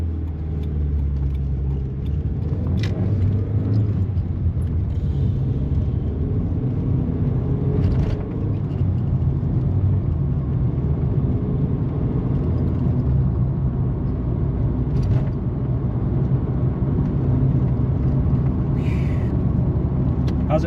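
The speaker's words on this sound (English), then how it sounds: "test drive, Sportscort with the new clutch, slave cylinder, master cylinder, flywheel, pressure plate, all is new." A 1993 Ford Escort LX with 88 horsepower, fitted with a new clutch, slave cylinder, master cylinder, flywheel and pressure plate, heard from inside on a test drive: a steady low engine and road rumble with light rattles, and people talking over it.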